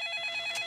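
A cartoon dad's mobile phone rings with a bright, rapidly pulsing electronic trill, heard alone and close for a split second.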